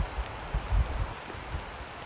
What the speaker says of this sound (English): It has started raining on us right when I was making my dinner.